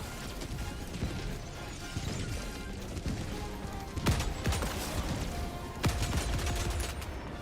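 Turret gunfire in a video game, a steady stream of dense rattling shots with louder sharp bursts near the end, continuous and fairly close throughout.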